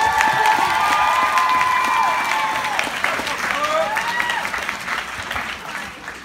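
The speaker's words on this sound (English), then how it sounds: "we must give them a round of applause" Parents in an audience applaud stage performers at a school performance event, dense continuous clapping with cheering, whistles and excited voices mixed in, fading slightly toward the close.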